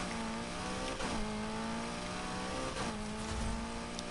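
A BMW fitted with a McLaren 3.9-litre twin-turbo V8 in Need for Speed Heat revs hard and climbs through the gears, its loud droning tone dropping twice at quick shifts, with no talk.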